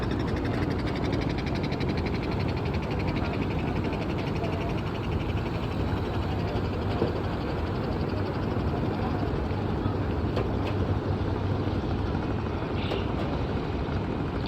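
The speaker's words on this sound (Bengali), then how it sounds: "একটা বড় লঞ্চ যাচ্ছে" A large river launch passing on the Ganges at night near Kedar Ghat in Varanasi, heard as a steady, continuous engine drone with broadband wash that stays constant throughout, with no clear rise or fall.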